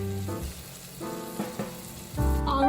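French onion chicken sizzling and frying in a pan, a steady close hiss with brief louder spatters near the end, no voices.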